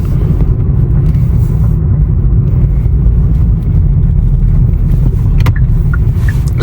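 A steady low engine rumble and road noise from inside a moving 2022 Hyundai Sonata N Line at night, constant and fairly loud, with no talking.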